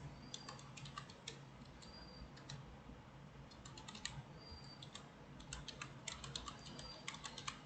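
Someone types an email address on a computer keyboard: a steady run of light, close key clicks in quick bursts with brief pauses, fairly faint and with no voices.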